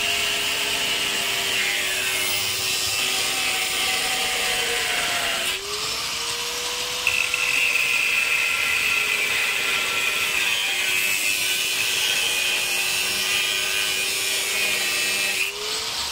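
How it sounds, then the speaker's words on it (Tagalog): An angle grinder runs continuously on metal being cut for a medallion, a loud, steady whine that dips briefly in pitch twice as the blade bites, with no talking. "Grinder pang gamit."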